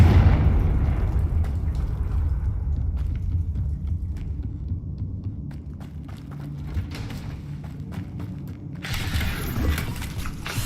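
A Confringo blasting spell goes off in a Harry Potter video game as one heavy, rumbling explosion whose low boom rolls on for several seconds, with faint clicks and game sounds layered over the long decay.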